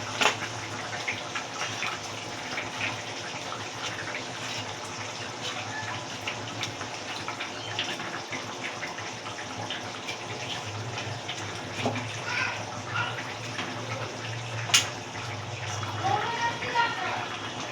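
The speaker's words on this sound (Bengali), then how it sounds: "আমার ঝোলটা টকবক করে ফুটে গেছে" Katla fish kaliya curry broth boiling in a pan makes a steady, busy bubbling and gurgling that runs throughout, with a voice talking over it and one brief clink late on.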